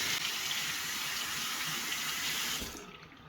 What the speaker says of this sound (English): Let's give it a rinse.